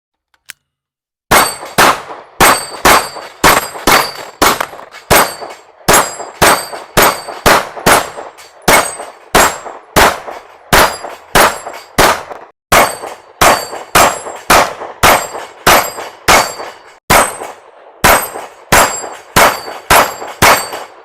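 A PSA Dagger handgun fires rapid strings of shots that ring steel targets, each sharp report followed by a metallic clang, in several quick bursts with short pauses between them.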